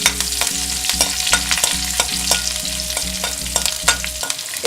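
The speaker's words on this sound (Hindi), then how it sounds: "अब इसमें मैंने हरी मिर्ची डाली है, जो मैंने काट कर पहले से रखी थी, ब्राउन की हुई है।" Chopped green chilies frying and being stirred in a pan, a loud continuous sizzle with repeated scraping strokes of a spoon, close up and without speech.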